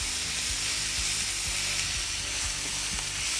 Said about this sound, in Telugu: ఉల్లిపాయలు వేగిన తర్వాత అల్లం వెల్లుల్లి పేస్ట్ వేసుకోవాలి